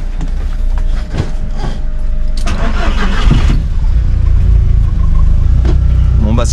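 A Volkswagen Golf engine cranks and catches, then settles into a steady idle with some revving, loud and close inside the car amid cabin noise.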